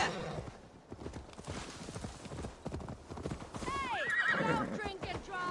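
Horse hooves clip-clop at a steady trot in Assassin's Creed Valhalla, close and clear, joined by a loud neigh and whinny near the end, with game dialogue spoken over the hoofbeats.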